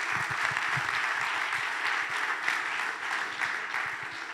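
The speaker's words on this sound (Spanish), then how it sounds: "Dale un fuerte aplauso al Señor." A church congregation claps steadily in sustained, even applause that fills the room, with no speech over it.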